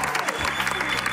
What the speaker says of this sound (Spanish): Un aplauso para mi tío Rodolfo.